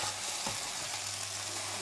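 Rice noodles fry in a pan with mushrooms and salt, a steady soft sizzle beneath occasional scraping stir strokes, close and even throughout without speech.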